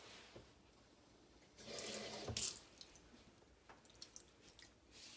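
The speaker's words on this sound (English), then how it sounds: "So I think that we will add a little bit more water." Water is added to a bowl of chia seed slime, giving a soft splashing pour of about a second followed by faint drips and small wet sounds, all fairly quiet with no talk.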